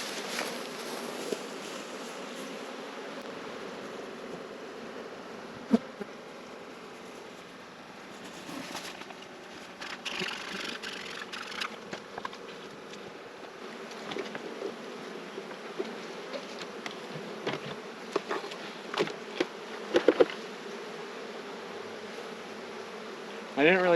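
Honey bees buzzing in a dense, continuous swarm after being shaken off hive frames during treatment of a production hive, close and steady with occasional clicks and knocks from handling, no talking.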